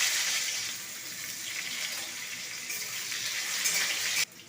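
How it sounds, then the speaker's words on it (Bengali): Potatoes fry in white oil in a hot wok, giving a loud, continuous close-up hiss that holds steady for about four seconds and then drops away sharply. "কড়াইটা গরম হয়ে গেছে আমি আলুটা ভেজে নিচ্ছি"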